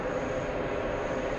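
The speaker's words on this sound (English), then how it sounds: "We have a 767 freighter flying in from Cincinnati." An Amazon Air Boeing 767 freighter arriving from Cincinnati at JFK airport gives off a steady, broad jet-engine roar, moderately loud and continuous through the short stretch, with no talk.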